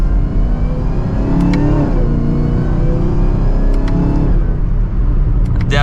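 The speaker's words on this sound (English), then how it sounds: "I love that V8 rumble and that supercharger whine." A 2024 Chevrolet Camaro ZL1 with a supercharged V8 accelerates hard from second gear, giving a loud, steady rumble with a rising whine that climbs through the pull and holds constant, close and full, with no talk.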